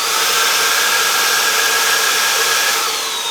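A Samsung Jet 90 cordless stick vacuum running at mid power with a small brush attachment, a loud, close, steady whirring roar that holds evenly throughout.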